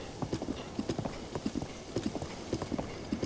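A horse in The Legend of Zelda: Breath of the Wild trots along a road, its hooves clip-clopping in a steady galloping rhythm of grouped beats at a moderate distance.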